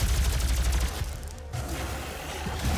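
A plasma rifle in Doom 2016 fires in rapid continuous bursts, a dense, loud crackling barrage with a brief gap before the volley resumes.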